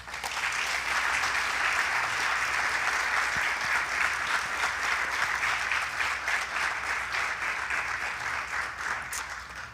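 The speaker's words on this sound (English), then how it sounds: "One more round of applause for all of our honorees today." Sustained applause from a sizable audience at a school award ceremony, a dense steady clatter of clapping that carries on throughout and eases slightly toward the end.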